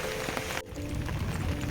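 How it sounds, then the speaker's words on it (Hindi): Light drizzle falls outdoors on a cloudy day near the Ganges in Rishikesh, a soft, steady patter of scattered drops with a faint background hum and no speech. "बूंदाबांदी हो रही है।"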